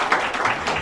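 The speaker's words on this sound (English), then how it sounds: "You guys could cheer at the guys in the yellow shirts back there if you wanted to" A brief burst of audience clapping and cheering at an outdoor Joshua Tree National Park partnership event, a dense wash of hands with no voice over it.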